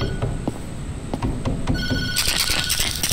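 A telephone rings insistently in a horror video game, a loud bright electronic trill that repeats and grows fuller partway through over low background noise.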